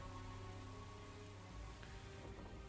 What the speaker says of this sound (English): you can hear the light drizzle of rain outside